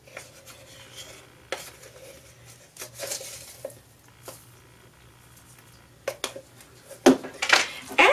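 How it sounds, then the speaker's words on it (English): Casserole ingredients, dressed with white sugar and celery seed, are stirred together in a bowl, giving soft scraping and clinking of a utensil against the dish, with sharper knocks and rattles near the end. "And we're just going to mix it all up."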